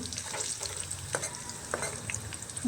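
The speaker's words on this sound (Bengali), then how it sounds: "সবগুলো মশলাকে একসঙ্গে ভেজে নেব" Chopped onion, bay leaf and five-spice seeds frying together in hot oil, a soft continuous sizzle broken by a few stirring scrapes and taps, heard alone without voices.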